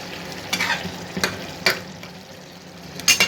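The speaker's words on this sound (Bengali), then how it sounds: "তারপর আলু দিয়ে কষাচ্ছি" Potatoes fry with spices, onion and ginger paste in a pan for a koi fish curry. A close, steady sizzle is broken by a few sharp scrapes and clinks of a stirring spoon.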